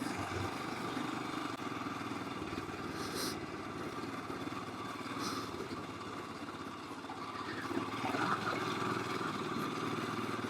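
Engine of a Himalayan motorcycle fitted with a Tec camshaft, running steadily on a dirt bike track, a continuous droning hum with a slight rise in revs near the end and wind noise throughout.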